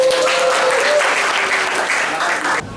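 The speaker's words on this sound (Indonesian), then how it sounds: "Tepuk tangan." Classroom applause during a teaching practice session, loud brisk clapping from a group that carries on steadily, then cuts off abruptly near the end.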